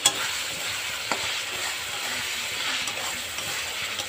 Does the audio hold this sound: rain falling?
no